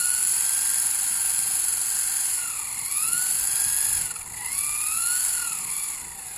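Small remote-control helicopter, waterproofed with Ultra Ever Dry coating, with rotor whirring steadily and close, its high motor whine rising and falling in pitch as it maneuvers outdoors over grass, loud and continuous without any talk.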